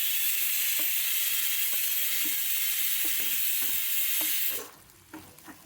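Greens or vegetables fry steadily in a pan with a loud, continuous, close sizzle and a few soft stirring clicks, then the hiss drops away abruptly near the end, leaving faint utensil taps.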